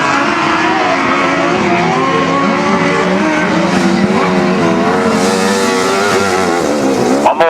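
Several grasstrack racing motorcycles roar loudly and close as they race around the track, overlapping engine notes rising and falling in pitch as riders throttle through the laps.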